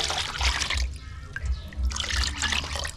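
Water being poured into a pot while cooking, a steady liquid splashing and trickling up close with a low bubbling rumble underneath, fairly loud and continuous.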